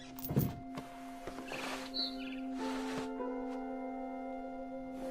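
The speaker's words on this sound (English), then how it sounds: "Then I heard chirping outside my window. It was a barn swallow going back to her nest." A barn swallow chirps in the video game What Remains of Edith Finch, with a few short bright calls early on over a steady musical drone and ambient game sound.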